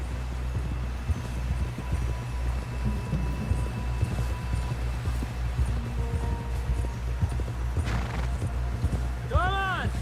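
In Red Dead Redemption 2, a horse's hooves clop steadily along at a brisk, even rhythm, close and clear, while voices call out over a low rumbling background and a few sharper chirps break in near the end.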